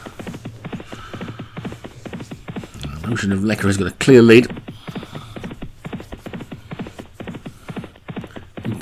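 Racehorses galloping in a Grade 2 novices' steeplechase, hoofbeats drumming in a fast rhythm under a race commentator's continuous talk, with a louder burst of hooves and crowd noise partway through.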